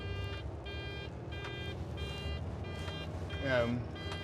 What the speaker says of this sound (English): We're gonna lock our differentials in, which you can hear through the alarm.